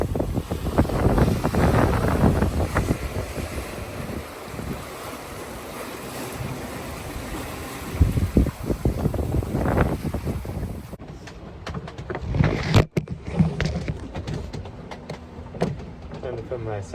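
Sailboat under sail at sea in 10-foot swells, heading around a cape. Rushing wind buffets the microphone and waves wash against the hull, while someone talks over the steady roar.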